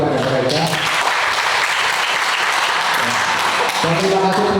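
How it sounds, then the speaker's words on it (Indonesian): Warm applause for guests at a church prayer meeting, steady crowd clapping throughout with a voice speaking over it near the end. "Kita kasih aplaus pada mereka."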